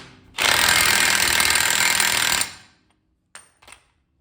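An impact wrench hammers the axle nut on a Dana 30 front axle of a 1996 Jeep XJ in one loud, steady rattling burst of about two seconds, followed by a couple of brief metallic clicks.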